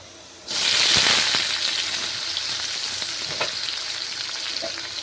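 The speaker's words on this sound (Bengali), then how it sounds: "এবার আমি দিয়ে দেব কেটে রাখা পেঁয়াজ কুচি" Chopped onion hits hot oil already seasoned with chilli, bay leaf and five-spice, bursting into a loud sudden sizzle that settles into a steady frying hiss with occasional stirring clicks.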